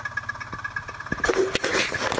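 A 2019 Microcar Dué Premium microcar idles with its hood open, a low steady engine hum that grows louder and rougher partway through, accompanied by a few nearby knocks.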